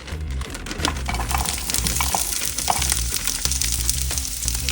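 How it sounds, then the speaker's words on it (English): Rough-cut onions fry in a little oil in a heated pan, a loud, dense, continuous crackling sizzle with occasional utensil clinks, heard up close and without talk. "So what we started with is we heated the pan, put a little oil in. Now we're going with these rough cut onions."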